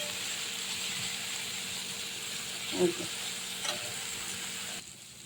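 Water lily stems fry with garlic in a pan, giving a steady close sizzle and hiss, broken by a few brief stirring clatters before it drops off suddenly at the end.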